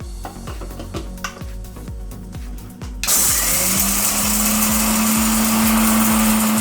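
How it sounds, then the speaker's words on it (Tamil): Roasted gram tumbling in a mixer jar at first, a rapid run of rattling knocks, then the motor kicks in with a loud, steady high whine and grinding roar that continues to the end. "பொட்டுக்கல்லையை இதை கொஞ்சம் நம்ம ஜாரில் போட்டு அரைச்சிக்கணும்"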